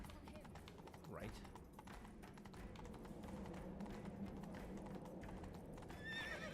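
Horse hooves clip-clop at a steady gallop with occasional whinnies in The Witcher 3 video game, a continuous rhythmic pounding mixed with game ambience and faint voices.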